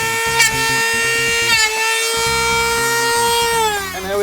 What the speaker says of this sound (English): We just use the Dremel tool to just clean up any sticking up, any nails that don't bend over that I can't submerge